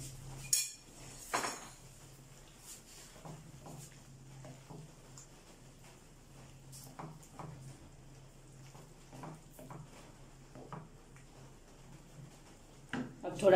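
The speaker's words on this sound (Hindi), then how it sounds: "अब मैं इसमें ये दही वाला बचा हुआ ये सारा मटेरियल डाल दूंगी और इसको बहुत ही अच्छी तरह मैंने भून लेना है" A spoon stirs and fries onion-tomato masala with yogurt in a pan for chicken tikka karahi, giving scattered metallic scrapes and clinks at irregular intervals over a faint background sizzle, moderately close, with someone talking at points.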